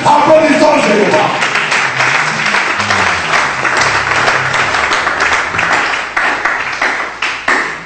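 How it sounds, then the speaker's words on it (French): Congregation at a French-language church service applauding, dense clapping throughout with speech or voices mixed in, loud and sustained before thinning toward the end. "Applaudissons Jéhovah."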